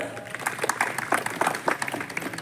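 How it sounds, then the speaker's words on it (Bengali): An audience in a hall gives a brief burst of applause at a Higher Secondary 2024 results ceremony, cheering the students who earned stars. The clapping is dense and steady, at moderate loudness. "যারা স্টার পেয়েছে তাদের জন্য জোরে হাততালি"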